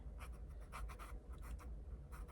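A Bic Crystal ballpoint pen scratches across paper in short, quick strokes, a close, faint series of dry scribbling sounds over a low steady background hum, with no talking.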